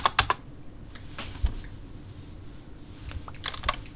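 Keys clatter on a computer keyboard while a message is typed into the Among Us game chat, producing sparse, close clicks in short bursts over a quiet background.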